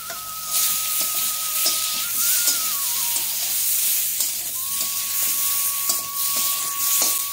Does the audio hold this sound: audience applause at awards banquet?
no